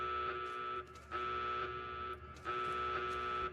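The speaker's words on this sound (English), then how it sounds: "Look at that super annoying alarm sound we came up with. What if it just didn't stop?" In Fallout: New Vegas, a looping buzzer alarm blares in long, harsh pulses with brief gaps between them, repeating steadily and fairly loud with no talk.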